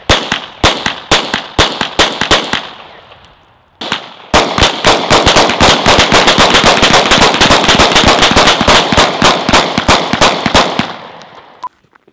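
Desert Eagle .50 pistol gunshots ring out outdoors as loud, sharp cracks. A brisk string of shots comes first, then after a short pause a long, fast, steady volley, ending in a few scattered last shots.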